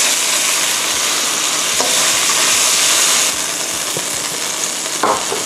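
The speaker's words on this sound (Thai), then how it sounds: "ตอนนี้ก็นำแปะก๊วยนะคะลงผัดได้เลยค่ะ" Ginkgo nuts stir-fried in a pan with seasoning such as sugar: a loud, continuous close sizzle with regular soft thuds and scrapes as they are tossed, and no talking.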